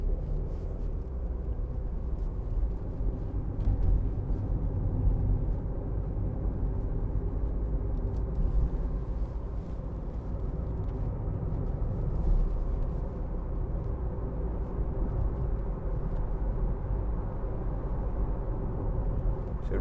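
A 2015 Audi A1 1.4 TFSI Sport with S tronic gearbox rolls around a roundabout, a low, steady cabin rumble of engine and road noise, fairly quiet and continuous with no talking.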